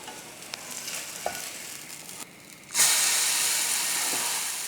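Moong dal bread toast frying on a pan, a steady sizzle with faint stirring clicks that swells suddenly into a loud, sustained hiss partway through.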